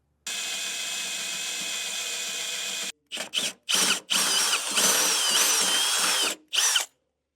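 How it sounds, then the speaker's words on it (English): A power drill bores holes through angle iron, a high steady whine for a few seconds followed by several short bursts of drilling, close and loud with no talking. "I'm going to drill those out so we can use the included hardware."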